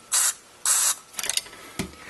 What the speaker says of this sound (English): So using the little extension nozzle off the can of cleaner, I'm going to spray a little bit in the hole